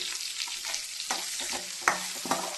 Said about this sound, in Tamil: கொஞ்சம் இந்த வெங்காயம் வதங்கி வரட்டும்.